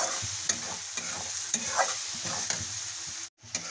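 Spice masala of coriander powder, turmeric and salt fries in a pan for a village-style chicken curry, a soft sizzle broken by regular scraping strokes of a spoon, with a brief dropout near the end.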